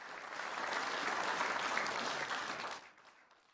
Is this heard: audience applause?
yes